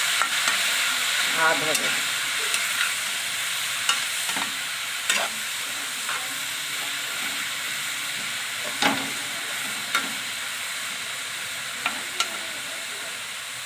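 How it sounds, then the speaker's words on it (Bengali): Grated carrots fry in ghee for carrot halwa with a steady, close hiss of sizzling and occasional clinks and scrapes of stirring. A voice speaks briefly partway through. "গাজরটা সুন্দর করে ঘি দিয়ে ভেজে নেব"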